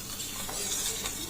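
A spoon stirs sugar into coconut milk in a bowl for coconut pudding, giving a steady, close, soft swishing and scraping with no pauses.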